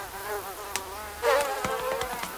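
A mosquito buzzes steadily and close by, a thin whine that wavers in pitch, broken by a few sharp ticks and a brief louder swell partway through.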